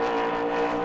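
The Pepperjack Kennels number 44 Super Late Model race car, qualifying at New Smyrna, gives a brief steady engine drone from a distance.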